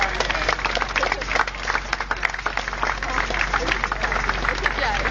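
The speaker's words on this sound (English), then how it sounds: "So as they come past, give them a round of applause." A crowd claps for a fire training team passing by after a car fire rescue drill, scattered outdoor applause over a steady low hum, with voices mixed in.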